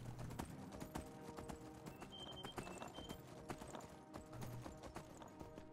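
Steady clip-clop of horse hooves trotting in the video game Skyblivion, with occasional whinnies and game sound effects layered over a busy background.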